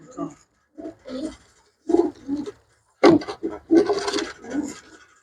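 Pigeons coo low and soft in short bursts while being picked up and handled for inspection, with a voice talking over them throughout.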